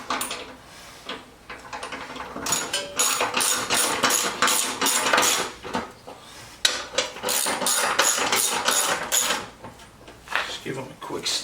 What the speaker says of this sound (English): we are going to tighten these bolts up now